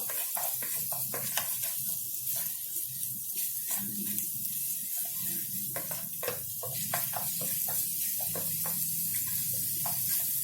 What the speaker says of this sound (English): To this olive oil, we're first going to add our ginger and garlic grated. Give this a good stir.